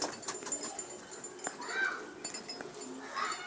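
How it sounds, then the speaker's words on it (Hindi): Roof pigeons coo softly, with a few low, murmuring calls surfacing over faint background noise and scattered chirps. "ਛੱਤ ਵਾਲਾ ਕਬੂਤਰ ਹੈ ਜੀ।"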